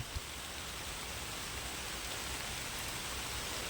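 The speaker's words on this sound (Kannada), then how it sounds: "ಸಿಕ್ಕಾಪಟ್ಟೆ ಮಳೆ ಗುರು" Steady, dense rainfall hisses evenly across the whole stretch, a heavy downpour with no breaks and no voices.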